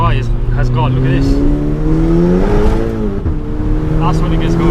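A tuned 435 bhp VW Golf GTI pulls hard under acceleration, its engine note climbing steadily in pitch, heard close and loud from the cabin with a voice talking over it.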